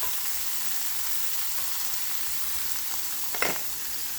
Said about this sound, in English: Throw the garlic in there. And just get a nice sear.